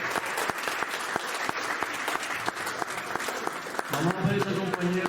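Sustained audience applause fills a meeting hall at a workshop on constitutional amendments, steady dense clapping throughout, with a few voices rising near the end.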